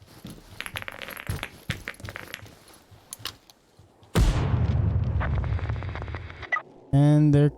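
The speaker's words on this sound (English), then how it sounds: "Give him a little nade." A grenade goes off in the tactical shooter Ground Branch, a sudden loud blast with a rumbling low-frequency tail that lingers for a few seconds, after quieter clicks and footsteps; a second sharp burst follows near the end.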